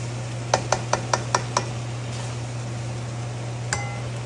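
A cooking pot lid is handled while Filipino kinamatisan simmers, giving a quick series of six sharp metallic clinks close by, then a pause and one last clink, over a steady low hum.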